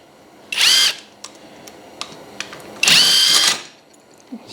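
A power tool zips out bolts from the triple clamp of a Honda XR250R motorcycle in two short, loud whirring bursts, with small clinks and quiet handling noises between them.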